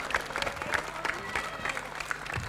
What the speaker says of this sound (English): Crowd loving that shot.